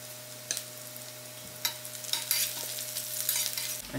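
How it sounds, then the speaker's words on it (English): Onions and curry leaves fry in a pan for a potato curry, with a quiet sizzle broken by sharp spatula scrapes and crackling bursts that build toward the end. "While the onions are getting ready, I throw in my curry leaf."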